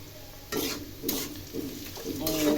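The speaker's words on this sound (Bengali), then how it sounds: "পেঁয়াজটা ভাজা ভাজা করি, তারপর রান্না করি।" Onions stirred and frying in a pan: a steady sizzle with four distinct scraping stirs, close and fairly loud, with no voices.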